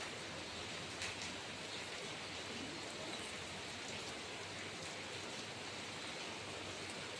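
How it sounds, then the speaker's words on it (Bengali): Steady rain pours down in an even, continuous patter while the sun shines, heard alone without any voices. "দেখুন বেশ ভালোই বৃষ্টি পড়ছে"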